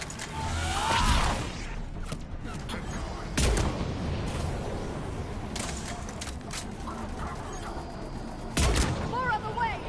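Sci-fi gunfire from a Mass Effect 3 battle crackles in sharp, repeated bursts over a constant rumbling firefight, with a few louder close shots standing out from the distant din.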